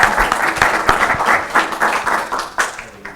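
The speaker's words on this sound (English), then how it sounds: "let's give Bob another round of applause" Audience applause at a NASA science forum session, steady dense clapping from a crowd, loud and close, fading slightly toward the end.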